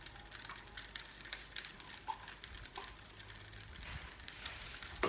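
Chopped onions hit hot oil in a pot for Nigerian ofe akwu stew, giving a faint, steady sizzle and soft scraping as they are stirred.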